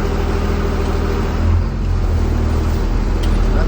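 A 2000 Blue Bird TC1000 school bus, recently fitted with a wheelchair lift, drives along with a steady, loud low engine rumble and road noise, close and continuous, with no talking.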